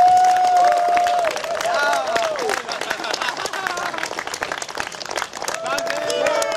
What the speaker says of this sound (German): Das war ein bisschen Applaus, ich hoffe, ihr habt gehört.